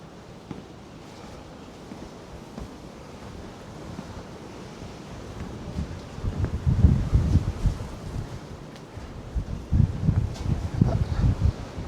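Wind rumbles against the microphone, faint at first and building into stronger low gusts in the second half.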